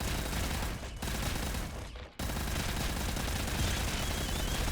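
Rapid, dense weapon fire from the top-down roguelike shooter Nuclear Throne, a continuous loud fusillade of gunfire with two short breaks, with no talking over it.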